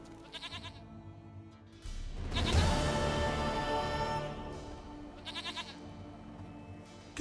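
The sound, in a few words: goat bleating in The Witcher 3 video game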